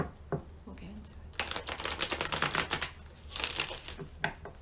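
Dense papery riffling of tarot cards shuffled in a quick burst, preceded by a few soft taps and handling sounds, with another brief riffle near the end.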